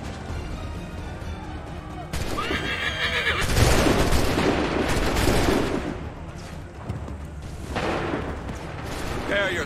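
Musket volleys crack in bursts in Assassin's Creed III, loud rippling fusillades with horses whinnying in between and shouted commands over the battle din.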